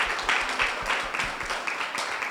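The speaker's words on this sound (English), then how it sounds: "I'd like another round of applause for just the day" A symposium audience gives a round of applause, moderate clapping from a modest crowd at a steady rhythm, fairly soft and slightly distant in a hall.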